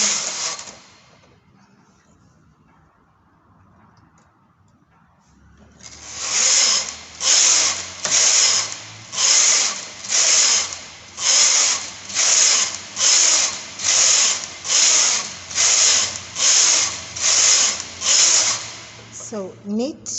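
A knitting machine knitting rows for jogger pants: after a few quiet seconds, about fourteen loud, evenly spaced mechanical sweeps as the carriage runs back and forth close by, ending with a short clatter.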